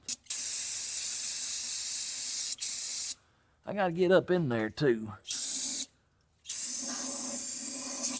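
Loud steady hissing spray from a faulty sprayer that barely sprays, in long bursts, broken by a short stretch where someone speaks, then the spraying resumes.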